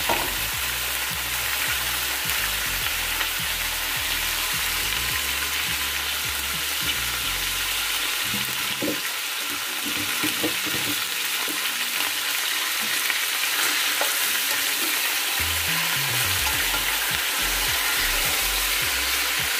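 Pork belly frying in a pan, a steady loud sizzle with stirring scrapes and clatter throughout, while background music plays underneath.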